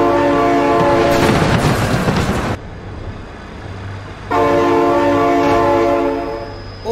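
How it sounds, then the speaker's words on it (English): A train rolls past close by with rumbling wheels, sounding its horn in two long, loud blasts separated by a quieter stretch of rolling noise; nobody speaks. "Oh my god, train!"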